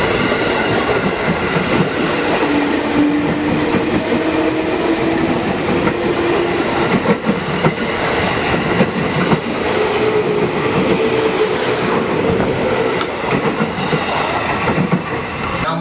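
Train running on rails, steady rumbling roar with wheel clatter and faint tonal squeals, loud and close throughout, no talk.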